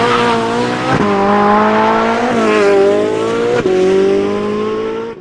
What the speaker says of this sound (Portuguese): O 458 era o último V8 naturalmente aspirado de motor central da Ferrari, e o som dele era irreplicável.